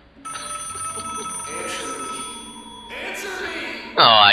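A telephone rings in the Tales of the Abyss video game, a trilling electronic ring sounding amid game effects, ending in a loud sharp burst.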